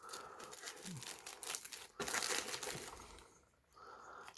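Plastic packaging from a vintage Italian piston-filler fountain pen being cut open, with steady crinkling and tearing that swells and dips close by for a few seconds.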